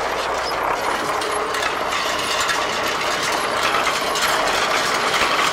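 An MTZ tractor's power take-off drives a hay baler in winter, giving a dense, continuous mechanical clatter of rattling, ratcheting parts. The sound stays close and steady throughout, with no pauses.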